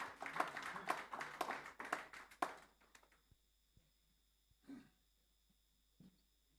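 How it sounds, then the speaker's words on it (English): An audience claps after a presentation at a business club launch in Nigeria, with a few seconds of dense applause that thins out to scattered claps and a cough. The sound then fades into a quiet room with faint stray taps. "Round of applause again for Joshua."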